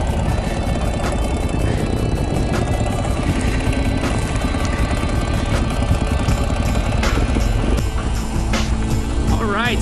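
A Ural sidecar motorcycle engine runs loud and close while riding off-road, a continuous rough, rumbling drone with wind buffeting throughout.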